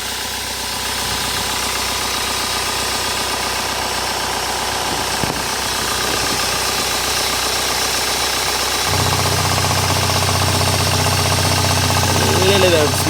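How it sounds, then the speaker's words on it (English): The diesel engine of a 15-year-old Hyundai Starex limousine van idles steadily with a low rumbling drone and faint knocking, a deeper hum joining near the end; a voice speaks briefly over it. "Here we go, it's the engine. It sounds very good."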